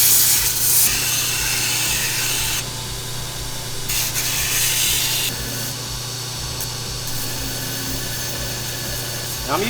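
Belt grinder running a worn 80-grit ceramic belt across a freshly heat-treated steel bottle opener, giving a loud, continuous hiss and whir over a steady motor hum, with the grinding easing and returning several times.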